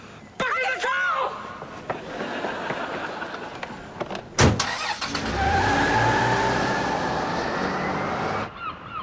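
A car door thumps shut partway through, and the engine then runs with a steady hum. People talk loudly in the car before and after the slam.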